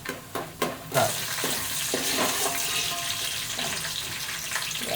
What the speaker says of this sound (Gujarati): તેલ ગરમ છે ને એટલે પહેલા આપણે આ દાળ આમાં ફ્રાય કરી લઈશું.